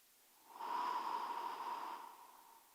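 A single soft, breathy exhale through pursed lips during a breathing exercise, a quiet airy hiss lasting over a second that rises and fades, with no voice.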